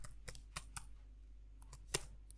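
Java code typed on a computer keyboard in Eclipse, sparse close key clicks in an irregular rhythm over a low steady hum, with no talking.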